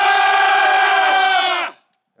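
A group of airsoft players shouts a loud unison battle cry, one sustained full-throated yell from many voices that holds steady and then cuts off into silence.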